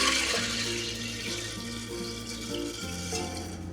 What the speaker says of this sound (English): we're going to add cold water, and that's going to help the beans cook more evenly